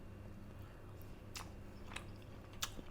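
Someone quietly chews a mouthful of aromatic saffron-spiced rice, with a few soft, moist bites and smacks against a steady low background hiss.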